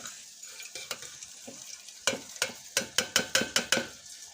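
Cashew nuts are stirred and roasted in a pan, a spoon scraping in quick repeated strokes that grow into a regular rhythm of sharp, close scrapes over a faint sizzle.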